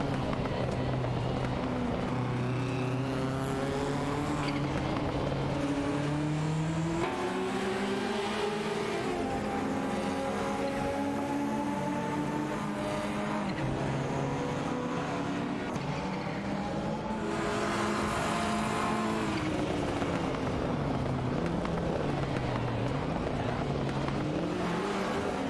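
Racing cars in a video game, a Porsche 911 and a Toyota Celica, with sustained engine whine rising and falling through gear changes, loud and continuous throughout as the two cars run close together.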